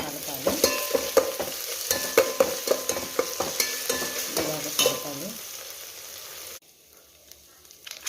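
Ginger paste frying in hot oil and ghee for chicken biryani, a busy sizzle punctuated by sharp scraping stirs of a spoon in the pan, then dropping to a faint hiss near the end.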